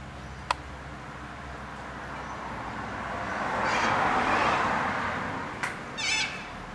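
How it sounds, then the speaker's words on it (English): A flock of little corella cockatoos feeding in a tree, with a steady noisy wash of calls and rustling throughout, swelling in the middle, plus a few sharper harsh screeches standing out near the start and end. "Lots and lots of birds."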